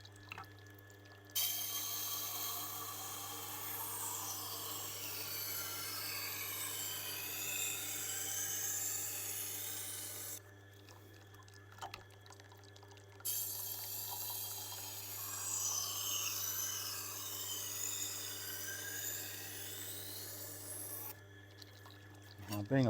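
A Tormek wet sharpening wheel works the edge of a Wusthof kitchen knife, a steady whirring grind with water hiss. Two long passes are broken by short pauses, and a constant low hum runs underneath throughout.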